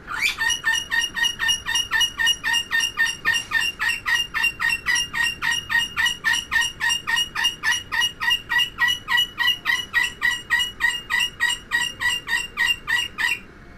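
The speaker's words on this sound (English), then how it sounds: "that bird's going nuts, as you guys can hear." A bird in the Titanic VR game calls over and over in a fast, steady, unbroken run of sharp gobbling squawks, loud and close, with no talk over it.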